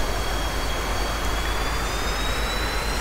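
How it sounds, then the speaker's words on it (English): F-4B Phantom jet engine in a carrier flight simulator game, spooling up before a catapult launch: a steady, dense, loud roar with a thin rising whine, continuous and even throughout with no talk. "Yes, we are spooling up."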